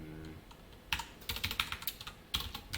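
Quick, close keystrokes on a computer keyboard while HTML code is typed, a short irregular burst of crisp clicks after a quiet start.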